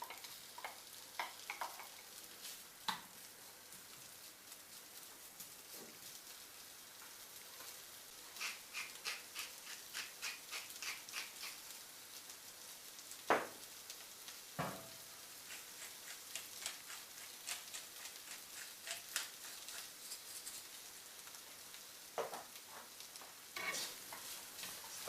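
Boiled potatoes frying in olive oil in a pan for a Spanish omelette, a steady close sizzle with scattered sharp pops and crackles throughout, no talking.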